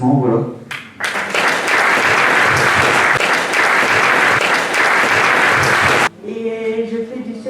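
Audience clapping at an awards ceremony, a dense burst of applause lasting about five seconds, loud and close, cutting off abruptly, with speech before and after it.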